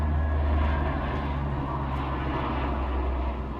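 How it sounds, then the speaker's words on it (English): A jet flies overhead on a farming video game map, giving a steady, loud engine roar and rumble that holds throughout and eases slightly at the end, with no talk. "of course, you can hear the jet"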